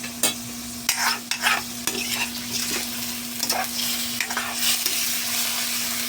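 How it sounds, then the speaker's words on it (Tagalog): Salmon sautés with ginger in a pan for a miso sinigang, giving off a steady close sizzle broken by repeated stirring scrapes and knocks. No voices are heard. "kaya iniginigisa natin sa luya para mawala yung langsa niya"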